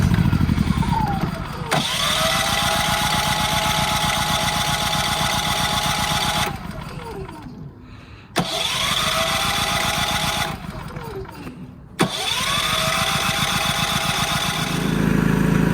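A Firman dual fuel 4000 watt generator with electric start is cranked and catches, roaring loudly at close range. Its engine dips and surges, drops twice into brief cranking bursts with sharp clicks, then settles into a steady running drone.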